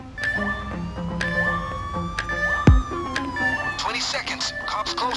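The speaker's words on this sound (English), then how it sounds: "Sirens," Police sirens wailing in the Payday 2 video game during a bank heist, several rising and falling tones overlapping, with a loud thump partway through and a burst of chaotic noise near the end.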